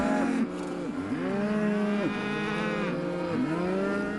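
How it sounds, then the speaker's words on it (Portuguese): A distressed cow moos repeatedly, four or five long drawn-out calls, each bending down in pitch at its end, close and clear against a low steady background. "Ele viu uma vaca visivelmente desesperada."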